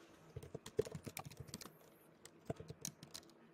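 Quick bursts of keystrokes on a computer keyboard, close and quiet, with a short pause before a final flurry of taps.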